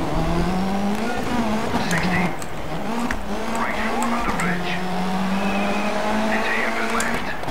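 Race car engine drones steadily while tires squeal and skid through corners in the Dirt 3 racing game, loud and continuous, with someone talking over it.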